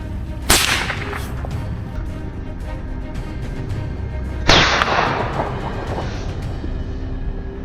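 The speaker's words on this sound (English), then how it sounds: "Without hesitation, he fired." A wild boar hunter's rifle fires two sharp, loud shots several seconds apart in the open. Each crack is followed by a short decaying tail over steady background noise.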